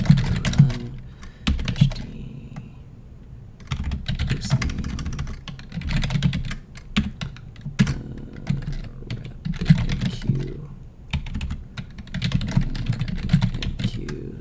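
Someone types steadily on a computer keyboard, with close, irregular clicks and brief pauses between bursts, under a low background rumble.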